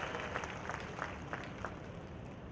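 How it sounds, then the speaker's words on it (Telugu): An audience at a stadium meeting with ration shop dealers claps steadily, a dense crowd patter with no voices heard. "గట్టిగా చప్పట్లు కొట్టి వారిని అభినందించాలి"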